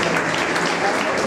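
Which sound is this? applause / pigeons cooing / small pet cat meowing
applause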